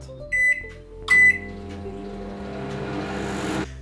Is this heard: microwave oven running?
yes